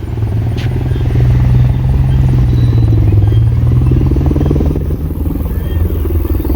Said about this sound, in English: That sure sounds like a military helicopter to me.